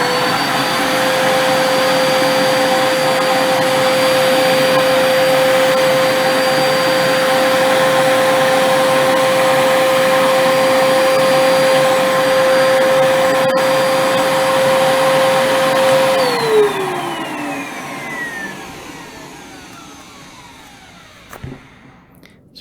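A Hoover vacuum cleaner runs with its hose end plugged by a car vacuum gauge, giving a loud steady whine and rush that holds for a long stretch, then the pitch sags and the motor spins down and falls quiet.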